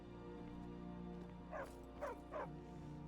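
A dog barks three times in quick succession in the Skyrim video game, heard over a steady droning game soundtrack with no talking.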